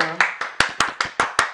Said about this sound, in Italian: Ci sta l'applauso.